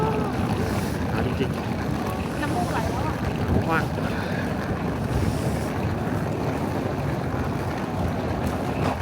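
Cold winter wind blows steadily at Oishi Park near Mount Fuji in Japan, a continuous rushing rumble against the microphone that lasts throughout, with voices talking under it.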